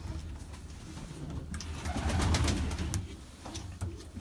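Mardin Çakmaklı, Miski and Miro pigeons giving soft low coos at close range, a gentle rolling murmur rising and easing over a few seconds.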